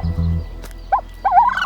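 A turkey on a dwarf-pig farm lets out two short, warbling gobbles, the second longer and louder, over a low steady hum with no one speaking.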